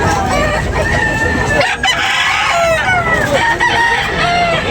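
Several gamecock roosters crow repeatedly at a rooster market, overlapping near and farther off, with clucking and a busy background murmur.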